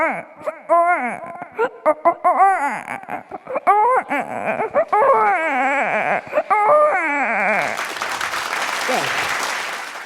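A voice mimics a baby's wailing cries in repeated rising and falling bursts at a summer camp show in Kozhikode, then the crowd breaks into loud applause near the end.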